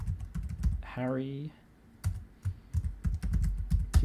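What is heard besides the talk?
typing on a computer keyboard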